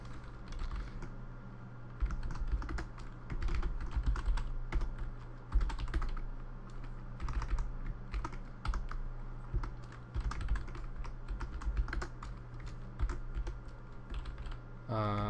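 Steady, fast typing on a new computer keyboard, with dense, continuous key clatter close to the microphone throughout.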